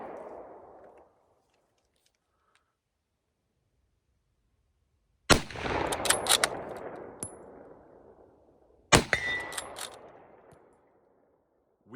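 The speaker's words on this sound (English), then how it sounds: "my beautiful Stevens Savage Lend-Lease Program Enfield number 4 Mark 1. And this is 10 rounds of .303 British." Two loud, sharp rifle shots from a Savage-made Lend-Lease Enfield No. 4 Mk 1 firing .303 British at an outdoor range, several seconds apart, each with a long echoing tail. No one speaks.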